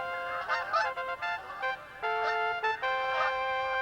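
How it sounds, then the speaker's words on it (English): Barnacle geese honk in a lively flock, with overlapping nasal calls repeating in quick bursts, clear and fairly close, and no talking. "He had no difficulty finding all the barnacle geese."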